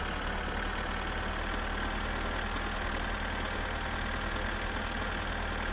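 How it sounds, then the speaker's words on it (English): A small, not very powerful tractor engine idles steadily in My Summer Car, a constant mid-low drone with no change in pitch, heard alone and up close. "This is not a very powerful tractor."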